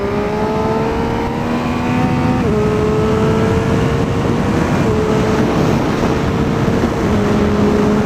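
A 2018 Triumph Speed Triple RS motorcycle accelerating on a racetrack, its engine loud and close, with steady rising pitch and quick drops at gear shifts.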